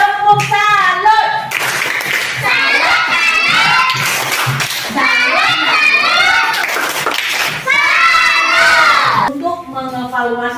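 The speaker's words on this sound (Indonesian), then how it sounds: "semuanya tepuk tangan buat semuanya" A group of children in a classroom clap and cheer together, a loud sustained burst of applause mixed with high excited shouting that rises and falls in several waves.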